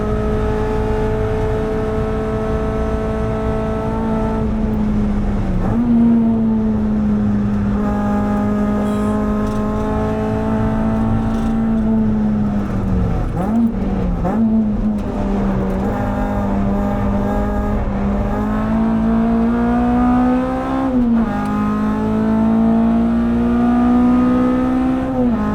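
A Honda EP3 Type R fitted with a K24 engine pulls hard in sixth gear on the Nürburgring, its loud, continuous engine note rising steadily with brief dips and lifts, heard from inside the car.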